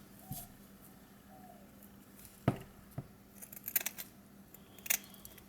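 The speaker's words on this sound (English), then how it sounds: "you could take some scissors and maybe trim a little bit of a taper" Scissors snip at handmade HO scale model trees, a few crisp, isolated clicks spaced irregularly over a quiet background, close up.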